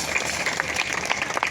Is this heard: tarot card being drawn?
no